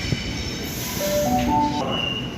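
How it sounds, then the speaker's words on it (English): A Sydney suburban train pulls away from platform 19 at Central, with steady rolling rumble and thin rising wheel squeals and motor tones, close and continuous with no talk. "Homebush service departing platform 19."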